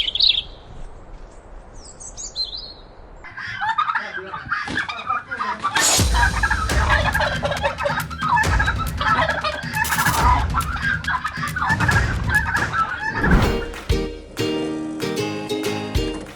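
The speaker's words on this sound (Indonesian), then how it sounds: "Kali ini, Aye lagi bikin pakan ternak buat ayam kalkun barengan ame Pak Johan di kawasan Bantul" Turkeys on a poultry farm in Bantul, Yogyakarta, gobble and cluck in a loud, busy flock chorus. The noise swells after a quieter opening and keeps going with overlapping calls.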